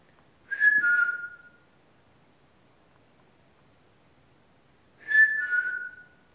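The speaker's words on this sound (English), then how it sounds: "If I whistle, can you whistle back?" A person whistles two short sliding notes, then pauses for several seconds and whistles the same falling phrase again, clear and close in a quiet outdoor setting.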